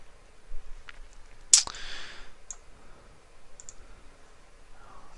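A computer mouse clicks while working in an Excel spreadsheet: a few faint clicks, then one sharp, louder click near the middle, followed by light scattered ticks in a quiet room.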